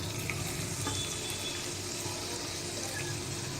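Garlic sizzles steadily in hot oil with faint crackles and a stirring scrape near the start, continuous and close, with no voices.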